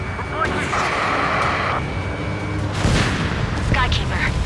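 Missile impact and explosion during an aerial dogfight against an SU-30 in Ace Combat 7, a loud sustained rumble with a booming burst near the end, under urgent radio chatter.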